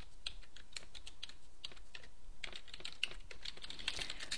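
Fingers type a PL/SQL program on a computer keyboard, a quiet, close run of irregular key clicks with small pauses, growing busier toward the end.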